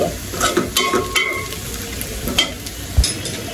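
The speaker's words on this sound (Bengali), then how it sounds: "এই যে পেঁয়াজটা কিন্তু আমার ভাজা ভাজা হয়ে গেছে।" Onions frying in a pan for a rui fish curry with eggplant and potato, a steady sizzle broken by repeated scraping stirs and light utensil clinks, close and alone.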